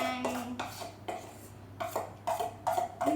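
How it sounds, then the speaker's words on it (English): A spoon scrapes biscuit mixture from the sides of a mixing bowl in a series of short, irregular scraping strokes, close and fairly quiet. "So just scrape it down with your spoon"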